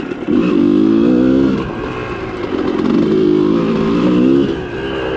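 A dirt motorcycle with a new fork setup is ridden close by, its engine revving and dropping in repeated loud surges with some mechanical clatter.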